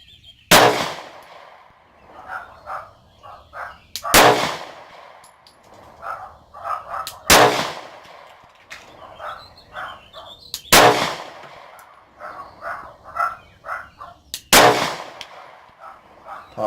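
Sig Sauer P365 pistol working through a 12-round magazine on a range: five loud, sharp gunshots at roughly three-to-four-second intervals, each followed by softer clicks and handling noise between shots.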